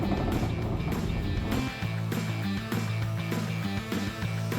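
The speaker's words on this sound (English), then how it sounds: "It's so quiet, except for the trunk rattle." A Plymouth Valiant drives on a test run after engine trouble, its engine droning up close while the loose trunk rattles, with abrupt jolts as gears change.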